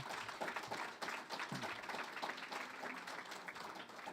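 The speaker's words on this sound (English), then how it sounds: "So give him a round of applause as well, too." Audience applause at a university alumni awards ceremony, steady dense clapping from a crowd that fills the whole stretch at an even level, close and lively without pause.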